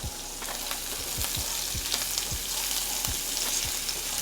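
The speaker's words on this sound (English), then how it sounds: "I like adding the bacon, get that bacon fat going." Bacon frying with onions and garlic in a pan, a dense, steady sizzle with repeated soft stirring or scraping knocks at a regular pace, close and uninterrupted by speech.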